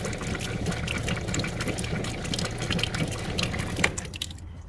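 Water runs steadily from the tap of a NuCamp camper, fed by an onboard water pump, a continuous close splashing flow with a faint motor hum beneath that drops away near the end.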